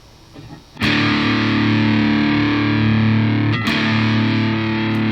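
An electric guitar played through a Boss DS-1 distortion pedal, the distortion knob at about nine o'clock, sounds a loud, sustained, heavily saturated chord. A fresh strike lands near the end and rings on alone.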